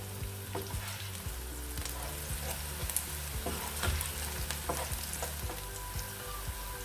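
Onions crackle and sizzle steadily in hot oil, with occasional soft stirring scrapes, close and moderately quiet.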